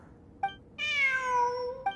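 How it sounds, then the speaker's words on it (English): A cat in the video game Genshin Impact gives a short chirp, then a long clear meow, then another brief chirp, all close and alone without speech. "Look! A cat!"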